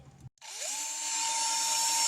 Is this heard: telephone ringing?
no